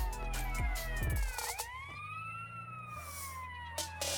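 Ambulance siren in the video game GTA San Andreas, a loud continuous wail rising and falling in pitch over a driving engine rumble, heard up close with no talking.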